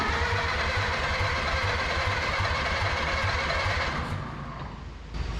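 An old 1930 Ford Model A coupe engine, long abandoned on a Minnesota farm, runs loud and rough with a steady throbbing chug, then eases to a quieter idle near the end.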